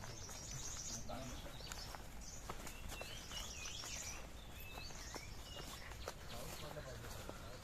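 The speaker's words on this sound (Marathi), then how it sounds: "विविध पक्ष्यांचे आवाज येत आहेत बघा" Several different birds, including a cuckoo, chirp and call from surrounding trees in the Konkan countryside during the monsoon, a mix of short tweets and whistled notes over a soft outdoor hum.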